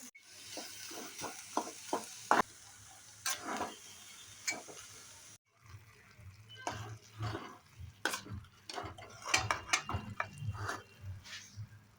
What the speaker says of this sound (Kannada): ಎಲ್ಲವನ್ನು ಒಟ್ಟಿಗೆ ಹಾಕಿ ಪಾಕ ಮಾಡ್ತೀನಿ